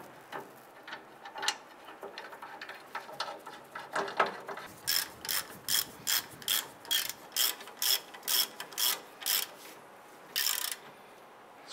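A ratchet tightens the brake caliper bracket bolts on a 2002-2008 Dodge Ram 1500: quiet scattered clicks first, then a close, regular series of short ratcheting bursts about twice a second, with no talking.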